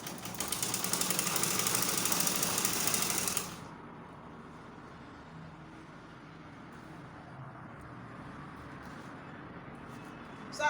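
A sewing machine runs in one loud continuous burst for about three seconds, stitching the fabric of a 360-degree flared peplum, then stops, leaving a quieter steady background.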